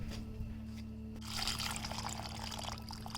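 Sliced pieces drop into a bowl of water, making soft splashing and trickling sounds that are faint, close and steady, with a quiet hum underneath.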